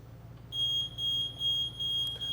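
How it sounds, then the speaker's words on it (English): A voltage tester held against an energized power line emits a series of clear, high, evenly spaced electronic beeps, fairly loud over a low background hum. "Now you can hear that audible beep."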